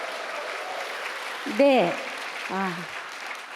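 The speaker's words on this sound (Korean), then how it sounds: "박수를 칠 때는 내 손바닥이 아플 정도로 함성과 함께 박수를 쳐야" Steady audience applause fills a church parents' prayer meeting, with someone speaking briefly over the clapping partway through.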